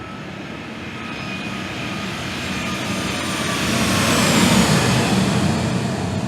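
A recorded aircraft flyby from a landing competition in Juneau: loud engine roar that swells toward the middle with a sweeping pitch shift as it passes, no voices.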